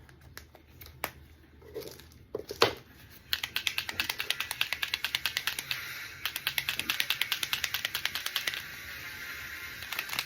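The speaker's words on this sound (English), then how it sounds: "I got my 3D printer going." A resin crafter's 3D printer running in a room, giving a fast, steady run of clicking, ratcheting mechanical ticks at moderate level, preceded by a few scattered knocks and rustles.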